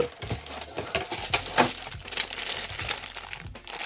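Cardboard and plastic packaging crinkle and rustle in quick, uneven bursts as the box for an X Sense solar-panel camera is opened, close and fairly quiet.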